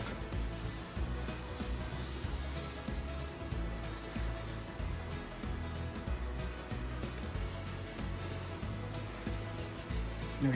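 Floured hands working pie crust dough, a continuous soft rubbing and squishing rasp with no pause, close and moderately loud.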